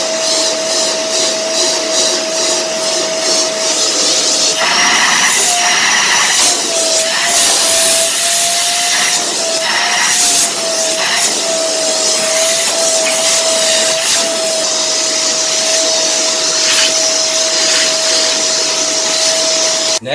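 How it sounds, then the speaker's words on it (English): A vacuum cleaner runs steadily and loudly up close, its high whine holding for the full length with brief surges in airflow midway, no talking over it. "So what you want to do is get your vacuum cleaner."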